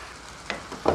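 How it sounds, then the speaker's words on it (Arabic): Half a kilo of blender-chopped tomato goes into a pan of cauliflower, giving two quick bursts of close sizzling over a low, steady frying hiss. "هنحط القوطة، ده نص كيلو قوطة يا حبايبي مفروم في الخلاط، هنحطه على القرنبيط"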